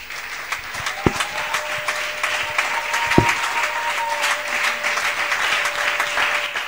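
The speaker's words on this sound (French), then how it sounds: "Est-ce que tu peux te tenir sur tes 2 pieds en acclamant le Seigneur Jésus pendant que nous allons prier" A church congregation claps steadily and continuously as people stand to acclaim Jesus before prayer, a dense applause from a crowd with faint voices mixed in.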